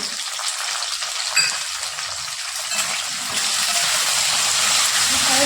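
Okra and potatoes fry over a high gas flame in a pan, seasoned with salt and turmeric, giving a steady broadband sizzle that swells slightly louder toward the end with no talking.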